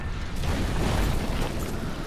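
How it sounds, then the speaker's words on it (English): Shockwave explosion from the Necromancer's golem in the video game Diablo 3, a dense, sustained rumbling blast with heavy low-end boom that fills the short stretch at steady loudness, no voices over it. "it's just an explosion. Like a shockwave explosion."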